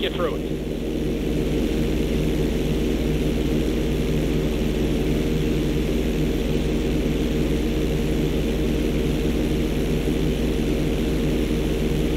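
A small propeller plane drones steadily and loudly through a flight school mission in GTA 5, the engine hum unbroken and close for twelve seconds.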